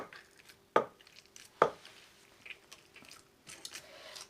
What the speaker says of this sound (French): si vous avez ce genre de pilon, vous n'hésitez pas, hein, vous venez bien tasser votre viande